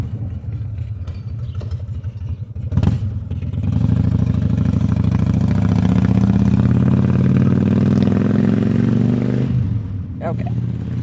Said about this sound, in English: We'll let this car go by. It's a loud one. Oh, it's a motorcycle.